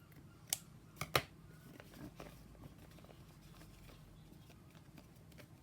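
Scissors trim paper for a junk journal, giving a few sharp snips close together early on, followed by quiet rustling of paper handling in a hushed room.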